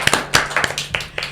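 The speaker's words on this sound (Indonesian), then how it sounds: "ini kalau kita boleh tepuk tangan dulu lah ya" A few people clap in a podcast studio, giving a short, sparse burst of separate claps spread over a moment, close and fairly loud with no talking.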